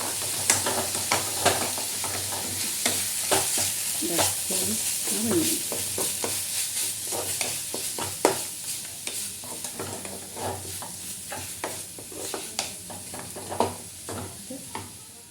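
Bitter gourd is stirred and fried with softened onion in a pan, giving a steady close sizzle with frequent scraping clatters from the stirring spoon.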